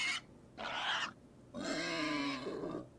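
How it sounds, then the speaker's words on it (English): Sampled pig grunts and squeals used in video game music come in three separate bursts. The last burst is the longest and most tonal, with short gaps between them and no voices. "just pulled out a handful of pig noises from it"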